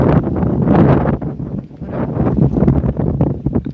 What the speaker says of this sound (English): Oh, the wind's blowing.